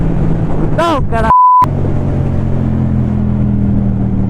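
A motorcycle engine fitted with a Black Widow aftermarket exhaust idles with a steady low rumble for most of the clip, after a brief vocal-like sweep and a short beep tone.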